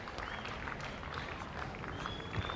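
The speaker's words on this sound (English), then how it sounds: "he's getting a round of applause" Cricket crowd at a 1985 Test match in Adelaide applauding a batsman reaching 9,000 Test runs, sustained distant clapping across the ground, steady and even for the whole stretch.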